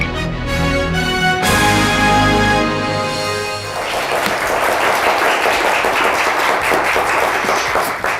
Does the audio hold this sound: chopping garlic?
no